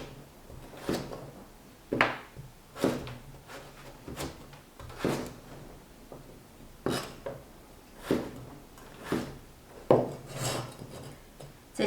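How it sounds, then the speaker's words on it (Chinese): A knife cuts a carrot into thick slices on a cutting board, making a slow series of about a dozen separate crunching, rasping strokes with short pauses between them, close and moderately quiet. "一根胡萝卜从中间先切开，"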